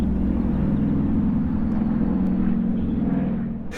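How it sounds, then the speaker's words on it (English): Airplane flying overhead in the space game Kerbal Space Program, a steady loud droning engine hum with a low pulsing tone that fades slightly at the end. "Wait, do you hear that? Yeah, is that a plane?"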